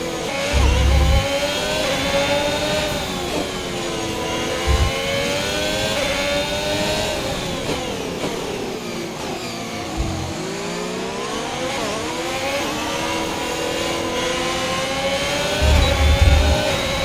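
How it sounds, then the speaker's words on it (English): A high, whining turbocharged McLaren Formula 1 engine in the video game F1 2021 rises and falls in pitch as it accelerates and shifts, loud and continuous, with a few low thumps. "McLaren has the best winding sound when it comes from the turbo."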